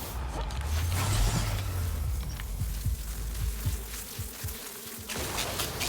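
Bees buzz in a video game, a close droning hum that rises and wavers over a few seconds, with scattered clicks and small mechanical sounds alongside.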